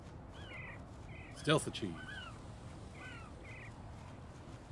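A seagull gives repeated short, nasal calls at intervals. A voice speaks briefly in the middle, and a faint background hum runs underneath.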